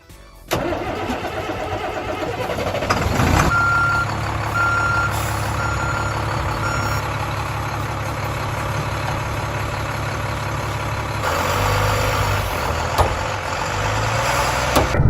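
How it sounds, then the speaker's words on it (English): Takeuchi compact track loader with a stump-pulling attachment working outdoors, its engine droning loudly and continuously while intermittent reversing beeps sound over the machinery noise. "this Takeuchi compact track loader uses a Danizer Intimidator attachment to bust the roots"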